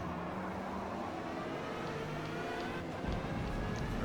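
A BMW M8 GTE race car engine in the Forza racing game drones steadily with a strained high-revving tone, shifting pitch slightly and getting louder near the end, with no talk.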